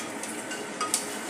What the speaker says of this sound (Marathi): मखाणे आपल्याला मंद आचेवर भाजून घ्यायचे आहे